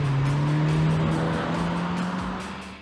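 A 2022 Mercedes-Benz C300 four-cylinder engine hums steadily with a rising tone as it accelerates, loud and close, then eases off slightly at the end.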